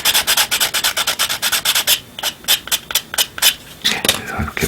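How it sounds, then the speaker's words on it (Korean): Sandpaper rubbed in quick back-and-forth strokes over a freshwater fishing float body being smoothed, steady close rhythm at first, then slower, more spaced passes with brief pauses. "이렇게 최대한 부드럽게 이걸 갈아내겠습니다"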